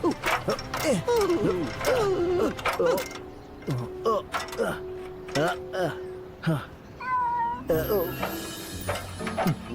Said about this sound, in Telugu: మనం ఈ పిల్లిని ఎలాగైనా కాపాడి తీరాలి